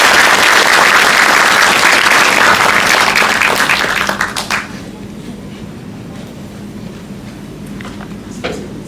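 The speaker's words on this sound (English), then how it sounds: "invite the audience to give a big round of applause to Professor Stiglitz" A lecture-hall audience applauds a Nobel laureate at a university dialogue, loud sustained clapping for about four seconds that then fades abruptly into a quiet room with faint murmurs and stray sounds.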